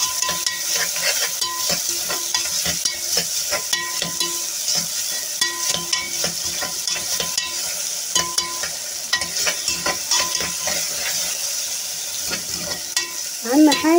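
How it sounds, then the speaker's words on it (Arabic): Onions and garlic frying in a pan while being stirred, with a steady close sizzle under frequent scraping utensil strokes that keep going throughout, plus a brief voice near the end. "نقلب كده فيها شويه."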